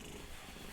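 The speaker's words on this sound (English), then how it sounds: "Probably you hear her like purr." A cat, about 18 years old, purring right beside the microphone, a soft continuous low rumble held steady throughout the short moment.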